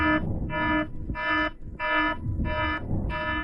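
An electronic alarm blares in regular pulses, six harsh buzzing bursts with short gaps between them, loud and steady over low background noise.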